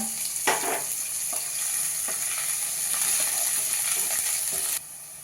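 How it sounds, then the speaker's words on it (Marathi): Tender coriander stems dropped into hot oil in a pan for lemon coriander soup, a steady close sizzle and crackle with a few stirring scrapes, the frying noise running throughout before dropping off near the end. "काड्या दांड्या म्हणजे बारीक कोवळ्या त्या घालूया"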